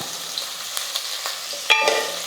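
Lightly salted onions sautéing in a pan, a soft close sizzle broken by a few quick scrapes of a stirring spoon, with no voices.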